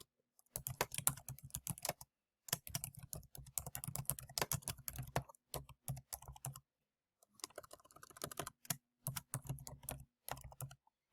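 Fast, uneven keystrokes on a computer keyboard as a name is typed, coming in close bursts separated by short silent pauses.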